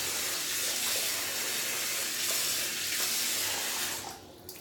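Cold water runs steadily from a tap with a broad hissing splash, continuous and close, then tapers off near the end.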